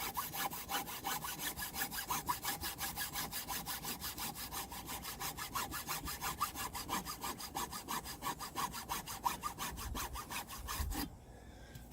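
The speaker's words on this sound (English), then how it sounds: "can you cut it with a hacksaw?" A hacksaw cuts through a Hydroblox plastic drainage block in steady, rapid back-and-forth strokes that continue for about eleven seconds before stopping, close and clear with no talking.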